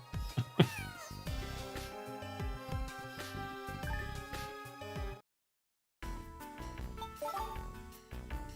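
A cat in the Phantasy Star 0 video game meows while being petted, set against dense game music that cuts out briefly before resuming, with no talk.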